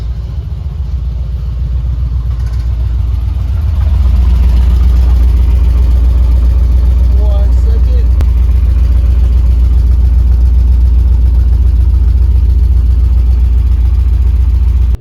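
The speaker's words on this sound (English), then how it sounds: "Let me show you guys the exhaust and how it sounds right now." A Volvo 240 wagon fitted with a cheap aftermarket eBay exhaust idles loud and close, a deep droning rumble that swells a little after a few seconds and then holds steady and booming to the end.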